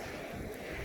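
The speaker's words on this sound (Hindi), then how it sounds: "पीछे पानी बह रहा है" Water flows close by outdoors, a steady broadband rush mixed with gusting wind against the microphone and no voices.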